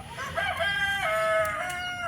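A gamebird rooster gives a drawn-out crowing call to a hen, one continuous loud cry rising and then tapering off, close by and with no speech.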